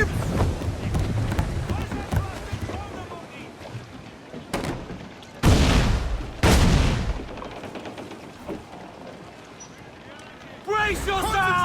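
Naval battle in Assassin's Creed Black Flag, with heavy booming cannon blasts arriving in loud bursts amid crashing water and ship noise, under shouted crew voices.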